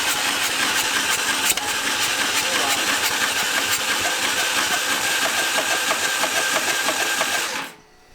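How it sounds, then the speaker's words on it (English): A turbocharged EFI lawn mower engine sputters and cranks loudly in a rapid, steady mechanical chatter, running rough for several seconds before abruptly cutting out; faint voices sit underneath. "It tried to start for a second."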